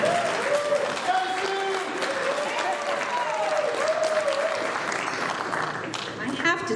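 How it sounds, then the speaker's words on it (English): Sustained audience applause at a community unity dinner as a vice mayor is welcomed, broad and continuous, with faint voices and cheers mixed in. "You get the biggest applause."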